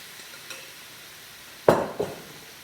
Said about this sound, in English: we're going to put it back in the wok